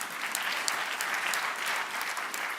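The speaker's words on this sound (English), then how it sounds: "yeah, you can clap." A conference audience applauds a mayor's speech with steady, even clapping from a fairly large crowd, heard at moderate distance for a couple of seconds without any talk over it.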